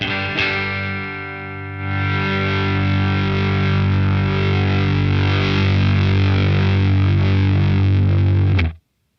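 An electric guitar rings out through a Fender Hammertone distortion pedal set at low gain as a near-clean boost, one sustained strummed chord held loud and steady for about eight seconds before cutting off.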